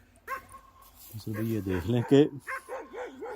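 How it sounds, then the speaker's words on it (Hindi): Dogs bark and yip nearby at night around a graveyard, a quick run of several overlapping barks followed by softer whining yelps, with a voice talking over them. "जो कुत्ते जो भौंक रहे हैं वो भी ऐसा लग रहा है जैसे ना हमारे करीब ही"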